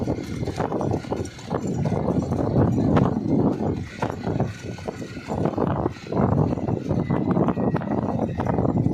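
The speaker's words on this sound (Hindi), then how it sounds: "अभी इधर से ले जा रहे घोड़ी को घर पे।" A mare being ridden home along a path gives steady, rhythmic hoofbeat clip-clops, close and fairly loud, mixed with a rumbling outdoor background throughout.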